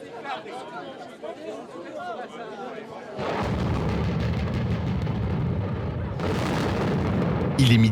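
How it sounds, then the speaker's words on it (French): Controlled demolition of two apartment towers: crowd chatter first, then a sudden heavy rumbling blast that rolls on for seconds as a dense, loud roar, with a second surge near the end and voices still audible beneath. "L'explosion des 2 tours a été maîtrisée de bout en bout grâce à une organisation colossale."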